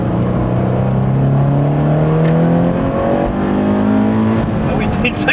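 Toyota GT86 engine climbing through the revs after a downshift, a loud close rising growl with a gear change midway, while people talk inside the car.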